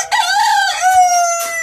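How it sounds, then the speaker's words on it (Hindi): A young rooster delivers one loud, close crow, a drawn-out call that rises and then holds steady, with no other sounds. "हमारा मुर्गा देखें अल्लाह अल्लाह कर रहा है"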